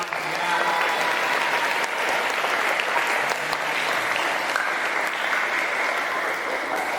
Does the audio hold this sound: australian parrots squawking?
no